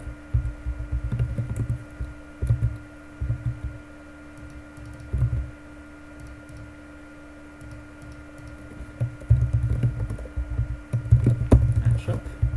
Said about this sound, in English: I'm typing my notes into my own tracking sheet that untapped.gg does not take care of.